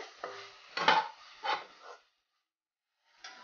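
A spoon scrapes and stirs curry in a metal pot in a few close, uneven strokes. A short silence follows, then a brief clink as the lid goes back on.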